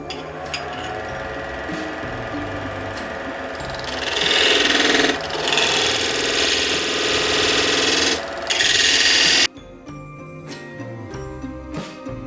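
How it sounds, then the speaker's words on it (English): Spindle Master tool cutting a wood spindle on a lathe spinning at 1200 RPM, a steady whirring hum with a harsher, louder scraping stretch in the middle, stopping abruptly near the end. "I'm going to speed up and use my spindle master"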